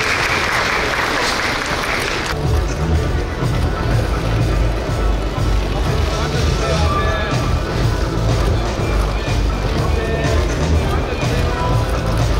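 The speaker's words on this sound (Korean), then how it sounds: "여러분 우리 윤 선수께 다시 한번 큰 박수 보내주시기 바랍니다" Applause from an audience at a press event honouring skeleton racer Yoon Sung-bin, dense steady clapping that carries throughout, with a brief hiss at the start and some crowd murmur blended in.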